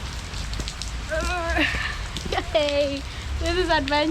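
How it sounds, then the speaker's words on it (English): Heavy rain patters steadily on a day trip in the Tigre Delta near Buenos Aires, a constant hiss under an excited voice that speaks over it. "the rain is a lot right now"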